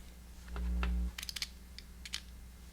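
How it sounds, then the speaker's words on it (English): Small screws are tightened on a Neutrik Speakon speaker connector, giving a low hum followed by a run of quiet, close clicks and light mechanical ticks, heard alone without speech. "Tighten those screws up nice and tight."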